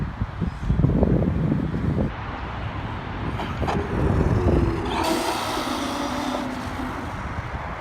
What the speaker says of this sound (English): It's a pretty quick truck.